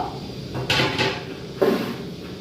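A lid set down on a pan of tomato chutney, giving a couple of short, close clatters of metal against metal in a quiet kitchen.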